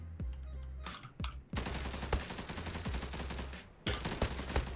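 Gunfire in the online shooter Zula: sharp single shots, then a dense rapid burst of automatic fire lasting a couple of seconds, followed by more shots near the end, loud and close.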